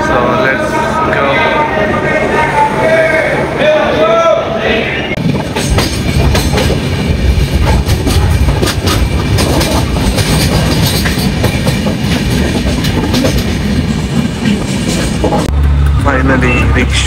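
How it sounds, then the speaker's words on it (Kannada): A train at a station in Goa, about to depart, gives a loud rolling rumble with clattering wheel noise throughout, and voices can be heard around it. "ನೋಡ್ಬೋದು ಟ್ರೈನ್ ಈಗ ಹೊರಡ್ತದೆ ಸ್ವಲ್ಪದಲ್ಲಿ"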